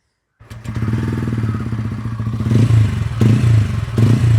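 A Royal Enfield Hunter 350 or TVS Ronin motorcycle engine fires up and settles into a loud, thumping idle nearby, with several short throttle blips near the end.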